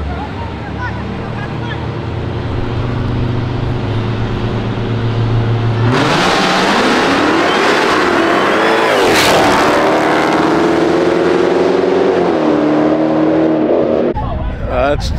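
A loud Hellcat car engine idles, then roars as it accelerates hard in a drag race, pitch climbing through gears before cutting off; heavy, close, continuous revving.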